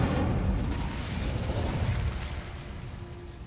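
A fiery burst from the Incendio spell in Hogwarts Legacy on PS5, a dense roaring whoosh that stays loud and broad for a few seconds, then slowly thins out near the end with no voices.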